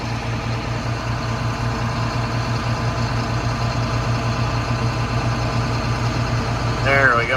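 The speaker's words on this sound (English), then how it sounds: "We'll rev her up." A farm sprayer's engine runs at a steady, loud idle to drive the solution pump, then its pitch starts climbing as it revs up in the last second.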